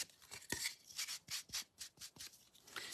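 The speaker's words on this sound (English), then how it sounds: "You can sand, do a little bit of sanding on the edges if you want." Repeated rough rubbing strokes of sandpaper on paper edges, close and fairly quiet, in an irregular back-and-forth rhythm with brief pauses between strokes.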